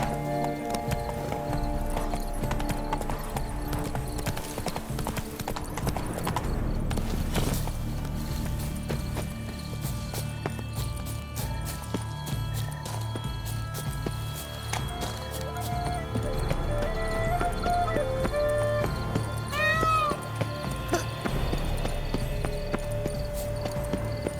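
A horse gallops in The Witcher 3: Blood and Wine, steady loud clip-clop hoofbeats throughout with an occasional whinny over background game music.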